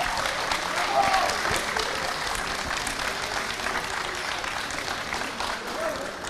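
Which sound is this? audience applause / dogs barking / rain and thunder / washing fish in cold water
audience applause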